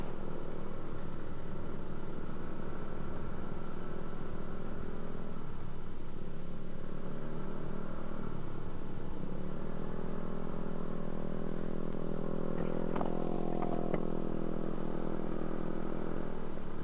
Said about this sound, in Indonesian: Ini ada Vario dan PCX sedang mati-matian lewat sini.